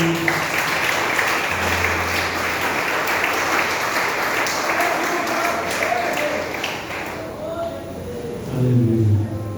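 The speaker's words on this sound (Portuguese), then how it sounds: "Você que pode aplaudir ao Senhor," A congregation applauds during a Sunday church service: steady, dense clapping runs for several seconds and then thins out as the speaker's voice returns near the end.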